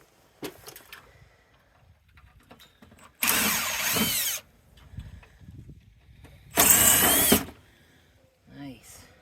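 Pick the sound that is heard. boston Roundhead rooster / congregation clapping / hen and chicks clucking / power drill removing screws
power drill removing screws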